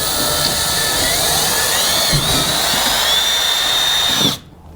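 A power drill on speed setting 1 bores slowly through a plastic bucket, a loud steady whine with a thin rising tone that holds, then cuts off abruptly near the end.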